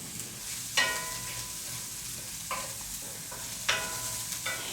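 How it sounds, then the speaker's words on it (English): Garlic hitting a hot pan of soft, caramelized vegetables, with three or four sharp sizzling bursts and stirring scrapes over a steady frying hiss. "we're going to add the garlic"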